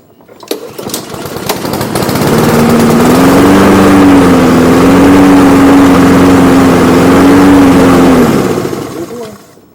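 A Honda Lawnboy lawn mower engine fires and runs at a steady, loud idle for several seconds, its drone wavering slightly, then cuts out and dies, with a few clicks before it starts.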